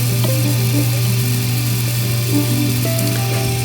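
A Miele dishwasher fills with water after a reset, giving a loud, steady low hum with a constant mechanical drone and faint flowing hiss, smooth and even throughout.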